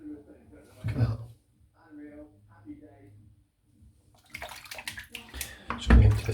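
Water running and splashing into a bathroom sink that is full, bursts of splashing and gurgling near the mic, with someone speaking between them.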